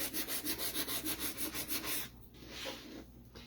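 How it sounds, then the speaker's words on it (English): Hand sanding of a wood heart cut-out, a steady back-and-forth rubbing in about a dozen even strokes, then slower, softer scraping toward the end; close and alone with no voices. "so that you didn't have to wait and watch me sand"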